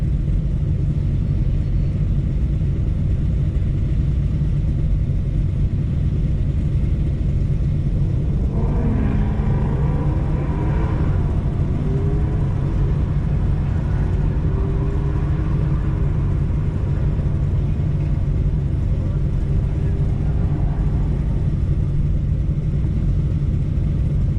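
A 2003 Mustang Cobra and a modded orange 2020 Shelby GT500 drag racing at Sonoma Raceway, heard as a steady engine rumble with a brief rising rev partway through and a second engine note later.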